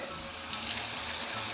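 Water runs steadily from a tap into a bathtub during cleaning of hard-water buildup, a soft continuous hiss and splash heard alone at low level without interruption.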